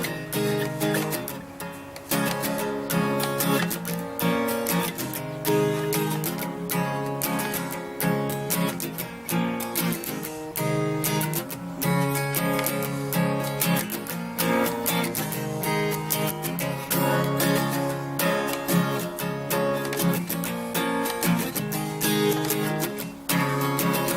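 A song strummed on an acoustic guitar, a steady up-and-down strumming pattern of dense chords throughout, close and clear, with no talking.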